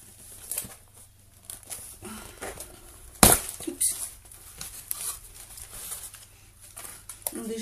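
Rustling, crinkling and tearing of a taped cardboard tea package close by, with one sharp crack partway through and scattered soft handling noises.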